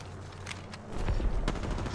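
Gunfire in Apex Legends: scattered sharp shots, then a louder sustained stretch of rapid fire with heavy low rumble, close and without voices.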